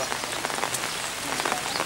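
Heavy rain pours down on a refugee camp, a dense, steady patter of drops striking surfaces close by for a couple of seconds, with no talking.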